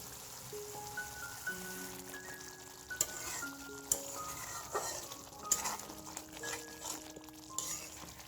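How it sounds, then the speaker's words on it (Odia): Spices in hot oil sauté for an Odia-style egg curry, giving a steady soft sizzle with scattered stirring scrapes and clinks close by, alongside faint tonal background sounds and no talking. "ଏମିତି ତେଲ ଆମେ ଭଲରେ କଷି ନେବା।"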